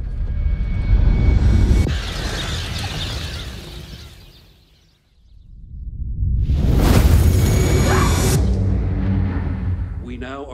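A loud, rumbling explosion-like roar swells up after a brief lull as a comet fragment strikes, joined by heavy roaring like aircraft noise and hiss, close and powerful, from the film Greenland.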